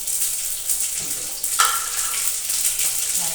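Oil heats in a pan for dal with a continuous soft hiss and crackle, a brief sharper sizzle burst partway through, steady and close with no talk.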